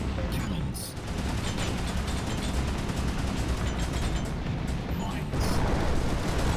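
Cannon fire in the BallisticNG racing video game, dense loud blasts and mechanical rumble overlapping in a continuous barrage with a few sharper bursts.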